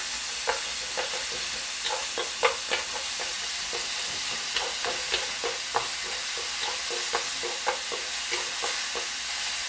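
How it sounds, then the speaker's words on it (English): Onions being stir-fried in a wok for mapo tofu: a constant hissing sizzle with frequent rhythmic spatula scrapes and taps, near and steady throughout, no voices. "So I'm going to also add onions. Continue stir fry."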